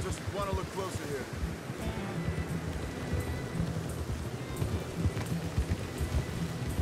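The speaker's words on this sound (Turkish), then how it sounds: "Yağmur, fırtına. Hava birden değişti." Steady heavy rain and stormy weather in the video game Red Dead Redemption 2, a dense hiss of drops on surfaces with low rumbling underneath, continuous and loud throughout, with a brief voice at the start.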